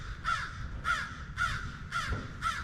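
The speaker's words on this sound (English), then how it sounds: "that's why the crow's upset" A crow at a Florida boat ramp, agitated by a nearby bald eagle, caws five times in an even, steady rhythm, each call harsh and clear from a moderate distance over faint background noise.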